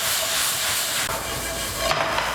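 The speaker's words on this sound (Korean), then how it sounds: "아까 볶아 놓았던 멸치와 마늘종을 전부 넣습니다. 그래서 잘 섞어주세요." Anchovies and garlic scapes tossed in a pan of melted sugar glaze, giving a steady close sizzle and hiss that runs unbroken, with a brief clatter of stirring near the end.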